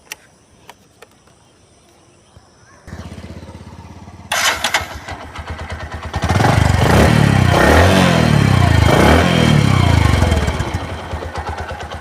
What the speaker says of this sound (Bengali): এবার আমি আপনাকে সাউন্ড কোয়ালিটি দেখাবো দেখেন বাইকটা সাউন্ড